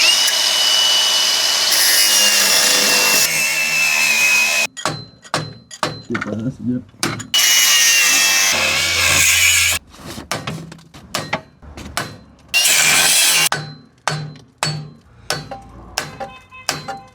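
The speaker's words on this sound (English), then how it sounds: "my neighbor grabbing the grinder, you know, just completely destroying the nut" A neighbor works an angle grinder against a seized car wheel nut, sustained bursts of loud harsh grinding broken by pauses and short clanks and scrapes, close up.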